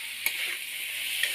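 Spices frying and being stirred in a pan for shukto, a steady close sizzle broken by two light clinks of the spoon.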